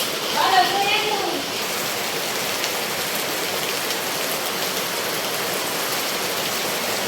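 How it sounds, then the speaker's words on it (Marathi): Heavy rain pours down steadily during a monsoon evening power cut, a dense, even hiss that stays constant throughout, with a brief faint sound near the start. "मस्त पाऊस सुटला"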